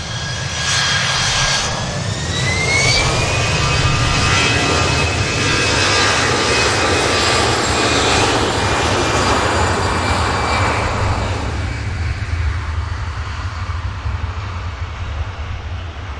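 An Airbus A380 airliner on short final roars loudly and steadily overhead, its broad engine rumble joined by a whine that rises in pitch, then eases slightly as the aircraft passes. No one speaks.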